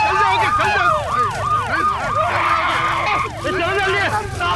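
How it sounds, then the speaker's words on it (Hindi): A loud wailing ambulance siren sweeps up and down rapidly nearby, with street noise and voices underneath. "गाड़ी है, वो एम्बुलेंस है।"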